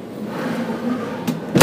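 A drawer in a 2007 Itasca Suncruiser 35L motorhome slides out on full-extension runners with a brief rolling rumble, ending in a sharp knock as it reaches the stop.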